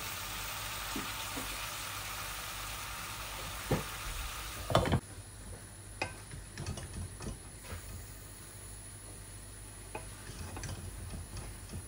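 A pot of vegetable curry with raw tomato, potato and cabbage cooking in an aluminium pot, giving a faint, low simmering bubble with scattered light clicks and a few louder knocks near the middle.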